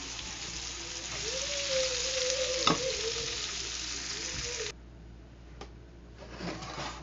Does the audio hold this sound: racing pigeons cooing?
no